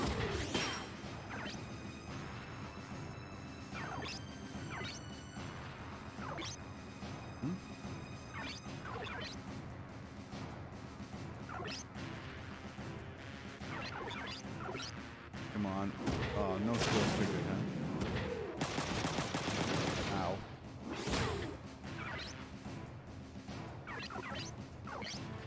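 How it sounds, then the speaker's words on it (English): Combat effects from Front Mission 3: a punch followed by a shotgun blast, heavy crashing impacts and bursts layered over dense game music, with a louder cluster of hits in the second half and someone talking over it. "Fist to the face. Followed by a shotgun to the face."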